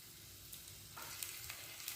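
Curry leaves crackle and sizzle faintly in about two spoons of hot oil, a soft, steady frying hiss with small pops.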